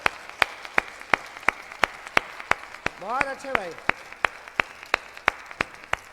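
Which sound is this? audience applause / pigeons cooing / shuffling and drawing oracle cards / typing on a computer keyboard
audience applause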